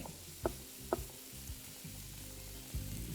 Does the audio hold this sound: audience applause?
no